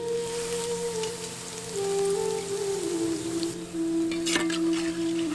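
Green gram bondas fry in hot oil with a continuous dense sizzle and crackle, steady and close, while soft tonal music plays underneath.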